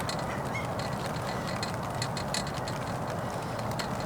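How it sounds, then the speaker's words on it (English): Geese flying overhead honk in a busy, overlapping chorus outdoors, the calls moderately near over a steady background of wind and ambient noise. "The geese are flying."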